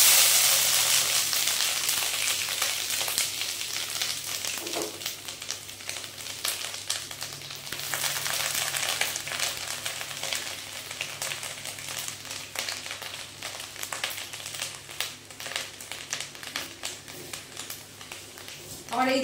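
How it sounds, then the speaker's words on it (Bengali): Ground onion paste fries in a pan for a chicken biryani, giving a continuous bright sizzle with crackling, while a person talks over it throughout. "পেঁয়াজটা আমি সুন্দর লাল লাল করে ভেজে নেব"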